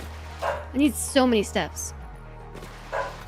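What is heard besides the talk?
dog barking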